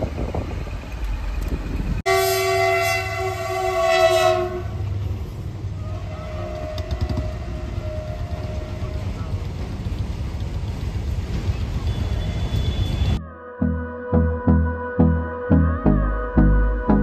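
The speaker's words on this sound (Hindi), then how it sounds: "फाटक बंद है, अभी ट्रेन आने वाली" A train passes a closed railway crossing in Rajasthan: a loud, sustained horn blast rings out over a steady rumble, and a series of rhythmic, thumping pulses follows near the end.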